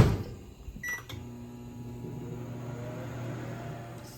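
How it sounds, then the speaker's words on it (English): A microwave oven heating a boba mixture: a few clicks and a beep as it starts, then a steady, close electrical hum with a low drone that continues alone. "let's put this in the microwave for 1 minute"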